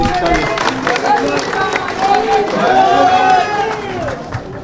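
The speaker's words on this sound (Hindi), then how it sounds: "जोरदार तालियों से" A crowd claps and cheers at a Hindi-language political rally, heard under a loud, continuous amplified speaker's voice that dominates throughout.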